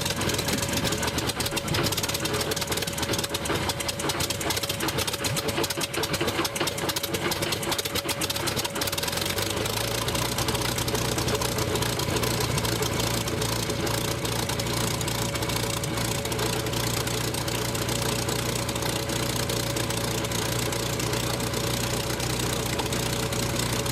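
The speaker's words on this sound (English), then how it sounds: "everybody wants to hear the sound of a radial engine starting up, especially one like this" A radial aircraft engine cranks roughly, then catches near the ten-second mark and settles into a loud, steady droning run with a constant low hum.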